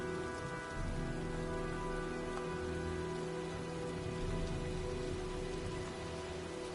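Steady rain pours down in the video game Heavy Rain as a storm arrives, a constant close hiss with low rumbling beneath it throughout, and no voices.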